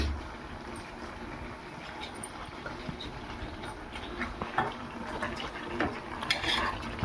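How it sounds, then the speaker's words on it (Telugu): A spoon stirs chicken curry with added tomato in a cooking pot, giving soft, continuous scraping and clinking at close range with no talking. "టమాటా వేసేసి మంచిగా కలిపేసి మూత పెట్టేద్దాం"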